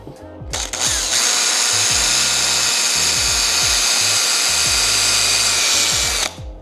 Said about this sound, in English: so we've drilled all the way through